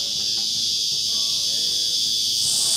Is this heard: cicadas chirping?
yes